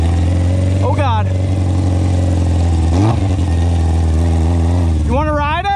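An ATC600r three-wheeler engine running loud and close, revving up sharply near the start, again in the middle and once more at the end, with a steady idle drone between the revs.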